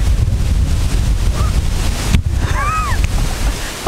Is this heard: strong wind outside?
yes